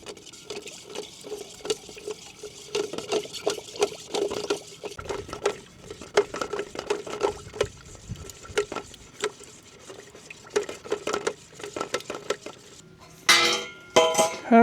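Paint mixed with catalyst stirred in a container, a steady run of close scraping and clinking strokes of the stirrer against the sides, continuing for several seconds and ending with a brief louder clatter.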